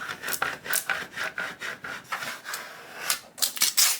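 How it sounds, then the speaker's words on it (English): Repeated rhythmic rubbing strokes as a burnishing tool presses vinyl onto an acrylic sign, each pass a short scraping swish, close and clear with no talk. "we're just gonna go ahead and burnish it"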